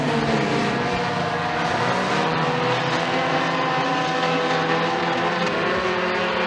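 Mini stock race cars roar through a heat race on a Raceway 7 oval, a loud, dense engine drone that swells and shifts as the pack passes, with no voices over it.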